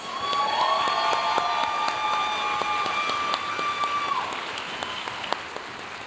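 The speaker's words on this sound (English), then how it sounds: "Let's give them one more round of applause" An audience at an awards ceremony claps and cheers in a sustained round, filling the room, with a few sharper claps near the end as it tapers off slightly.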